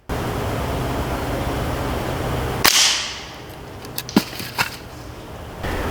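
Hatsan Model 125 Vortex .25 caliber pellet rifle fires one sharp, loud crack over a steady outdoor hiss, followed by a few fainter pellet impact ticks on the target.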